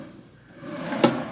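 A deep wooden drawer in a Disney's Wilderness Lodge Copper Creek deluxe studio room slides and bumps shut with one short, close knock near the end, over a soft room hum.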